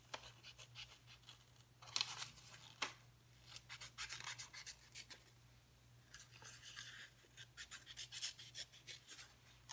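Scissors snip and rasp through paper while cutting out a piece for a clothespin dragonfly craft, with repeated soft cutting strokes close by and no talking.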